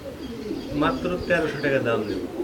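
Fancy Bombay pigeons at a large pigeon farm give soft, low cooing calls up close, several overlapping coos while a person talks.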